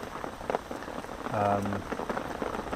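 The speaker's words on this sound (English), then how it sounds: "So it's going to be raining for a little while still." Rain falls steadily at Laurentia Dam in South Africa, a dense close patter on surfaces, with a short low hum and a voice briefly rising through the downpour.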